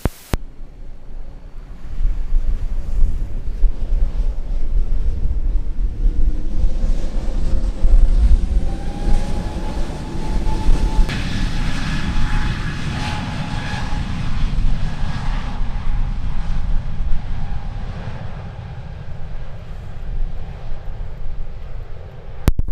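A jet airliner taking off from runway 07 at Sangster International Airport in Montego Bay, Jamaica, its engines building from a low rumble into a loud roar with a whine that climbs in pitch, wind and surf-like rush beneath.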